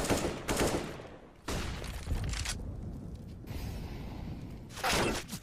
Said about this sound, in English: Second right around the corner, but it's Alidu to come through and follow up for the frag